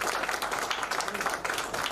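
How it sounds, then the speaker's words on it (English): Applause from guests at an alumni get-together celebration, a dense patter of many hands clapping steadily throughout, moderately loud and close. "Can we have a round of applause for them to bring us together?"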